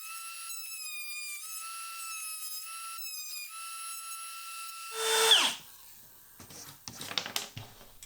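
A wood router cutting out veneer holds a steady high-pitched whine for about five seconds, then a sharp louder burst as it bites in, followed by rougher intermittent cutting noise.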